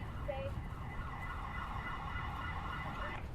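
An ambulance siren in an emergency services video game wails steadily and without a break, sounding moderately distant and fairly soft, with no voices over it.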